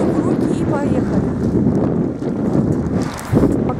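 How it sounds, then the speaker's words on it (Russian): Wind gusting into the microphone outdoors in Rethymno, Crete, a loud continuous rumbling buffet that swells and dips, with a voice speaking underneath. "Очень надеюсь, что меня будет слышно, потому что ветер дует"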